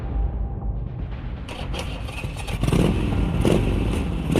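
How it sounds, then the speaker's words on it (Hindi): A motorcycle is started, with a clattering crank and then the engine catching and settling into a rough, loud idle that grows stronger toward the end. "बाबा अपनी बाइक पर बैठ जाते हैं और उसे स्टार्ट करने लगते हैं"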